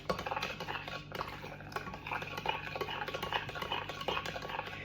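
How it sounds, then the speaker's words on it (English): A spoon stirs a drink mix in a clear measuring jug, soft repeated scraping and light clinks in a steady rhythm, faint and close, with no one talking. "just continuously stir it and make sure all the bits are dissolved"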